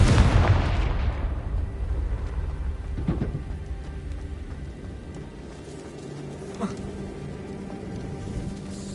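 A Confringo spell explosion in Hogwarts Legacy booms loudly at the start and rumbles down, followed by two smaller thuds amid lingering crackle and low rumble.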